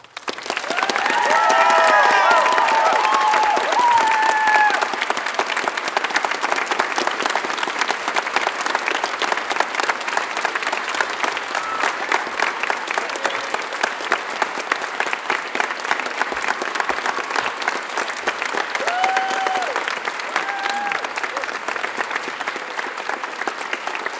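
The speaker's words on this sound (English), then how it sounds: "I really want to make sure they get a lot of clapping" An audience at a school production of A Midsummer Night's Dream claps loudly and steadily for a long stretch, dense applause with a few scattered cheers and voices.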